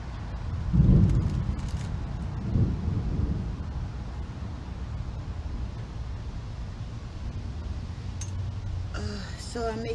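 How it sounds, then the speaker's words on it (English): Low rumbles of thunder roll in twice against a steady windy hiss before any rain, fairly distant and muffled. "It's thundering, but there's no rain yet."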